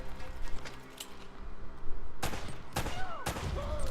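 Gunfire from Uncharted: Drake's Fortune, with a few sharp, loud bursts of shots in quick succession over a low background din and no speech.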